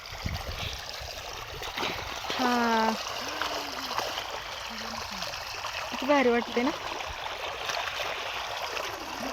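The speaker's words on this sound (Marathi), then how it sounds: "चाललंय सरळ पाणी खाली" Water rushes steadily from a burst pipe outside a tin-shed village home, a constant flowing splash and trickle while people talk over it.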